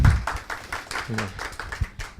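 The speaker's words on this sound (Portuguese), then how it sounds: "Uma salva de palmas para ele, por favor." An audience at a Brazilian business-mentoring and startups panel breaks into scattered applause, with a voice speaking over the claps.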